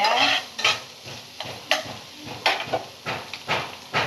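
Vegetables being stirred and sautéed in ghee for a vegetarian biryani, with repeated scraping strokes of a spoon against the pan over a steady sizzle, close and moderately loud.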